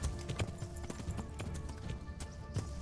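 Horse riding in the Kingdom Come: Deliverance video game, with hooves clip-clopping in a steady galloping rhythm, fairly close and clear over a constant game ambience, with no talk.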